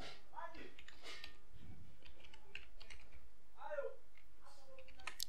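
Close computer keyboard typing, a quick run of clicking keystrokes while a background layer is renamed in After Effects, heard under a voice speaking.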